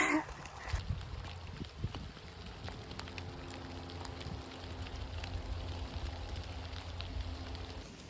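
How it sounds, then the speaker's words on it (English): Rain falls on the Appalachian Trail in 2023, a constant soft patter on surfaces and gear around a hiker, with footsteps and rustling close by. "All right, into the rain."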